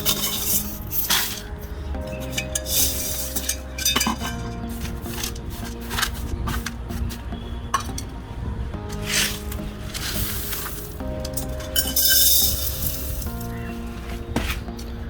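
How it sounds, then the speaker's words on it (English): Bonsai soil is poured and scooped into a pot for a chikoo bonsai, making a steady gritty rustle broken by many crunchy scrapes and pattering bursts, close and fairly loud throughout. "filling half the pot with a layer of bonsai soil"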